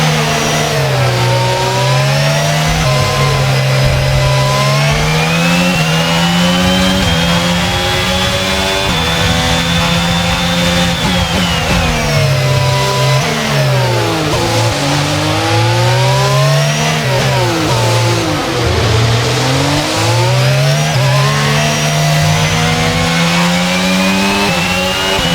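Formula 1 car engine in the video game F1 22 at the French Grand Prix, a loud, continuous high-revving whine that climbs and drops repeatedly through gear changes and corners, with the engine noted as showing internal combustion wear.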